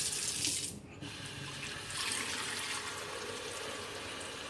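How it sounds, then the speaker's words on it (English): Cold tap water pours steadily into the water reservoir of a Mr. Coffee Cafe Barista, a continuous close rushing fill that briefly dips near the start and then runs on evenly, with no voices. "And put some cold water up in here."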